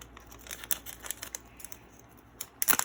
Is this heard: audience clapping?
no